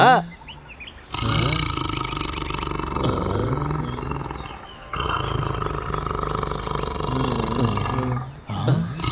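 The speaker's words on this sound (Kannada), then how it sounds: "ಹುಲಿ ಅಂದ್ರೆ ಹುಲಿ ಶಬ್ದ." A tiger roars again and again in long, rough, rumbling bursts with short breaks between them. It sounds fairly close and full against a noisy outdoor background, with scattered bird chirps.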